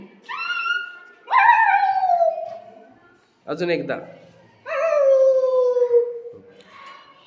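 A child imitates a puppy's whimper with drawn-out, falling howl-like whines, three long cries in a row, close and loud, with a brief adult prompt spoken between them.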